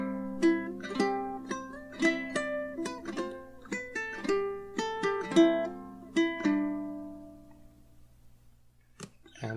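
A low G ukulele plays the first bar of The Irish Rover slowly in fingerstyle, with distinct plucked notes and chords ringing out one after another in an unhurried rhythm, clear and alone, ending with a brief muted strum.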